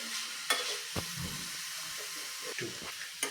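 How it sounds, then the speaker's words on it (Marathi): A modak mixture with rose syrup roasts in a pan, giving a low continuous sizzle broken by several sharp scraping stirs and clinks of a spoon against the pan. "आता रोज सिरप घातल्यावर साधारण अजून दोन ते तीन मिनटे छानपैकी आपण हे भाजून घेऊयात"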